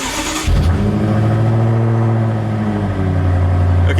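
A 2017 BMW M6 F13 engine with a Meisterschaft GTC exhaust and open valves, just after a cold start, rumbles loud and close as it blips up and then holds a steady deep drone.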